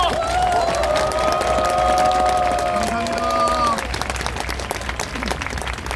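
Loud applause from a large crowd, steady and sustained, with a brief spoken thanks over it and tonal music playing underneath.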